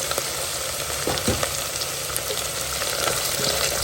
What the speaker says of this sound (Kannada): ಈರುಳ್ಳಿ ಹಾಕ್ಕೊಂಡು ಹಸಿ ಬಟಾಣಿಯನ್ನು ಹಾಕ್ಕೊಳ್ತಾ ಇದ್ದೀನಿ